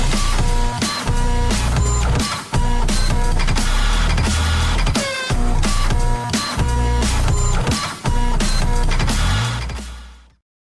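An office printer runs loudly and continuously with a dense mechanical chatter and rhythmic clunks, stopping briefly a couple of times before winding down to silence.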